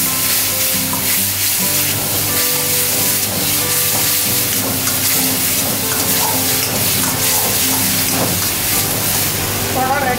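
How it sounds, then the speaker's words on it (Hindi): Spicy chicken deep frying in hot oil at a Bangalore street food stall, a loud, steady sizzle and crackle that runs throughout with kitchen clatter mixed in. "ऐसा फ्राई करके"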